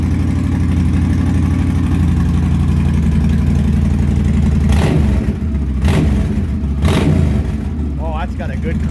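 A 2008 Yamaha V-Star 1300 V-twin motorcycle with Cobra aftermarket exhaust pipes runs loud and close, a deep steady idle rumble broken by a few short blips of the throttle.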